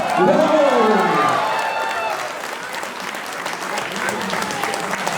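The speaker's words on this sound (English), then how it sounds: "Take a round of applause." Crowd at a Telugu community Ugadi celebration applauds and cheers the introduction of a political leader; loud clapping with shouts and whoops at the start, settling into steadier applause with some voices mixed in.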